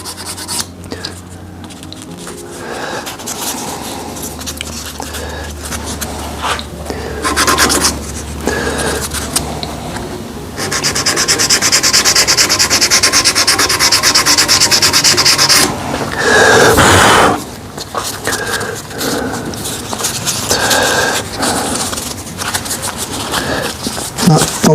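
Burl and epoxy resin shaving brush being sanded on a lathe, a close raspy rubbing that comes and goes in bursts, growing louder and steadier in the middle stretch.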